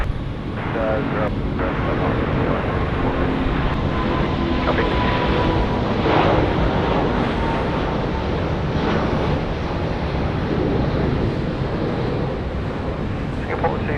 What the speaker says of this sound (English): as we watch our Singapore Airlines A380 now. The Super is rolling 3-4 left and